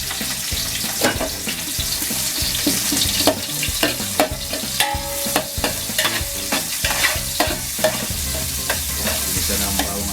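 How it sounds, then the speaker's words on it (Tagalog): Garlic and onion frying in oil for pancit bihon, a loud continuous sizzle punctuated by repeated scraping and tapping stirs of a utensil in the pan, close up with no talk. "Bisa na ang bawang at sibuyas."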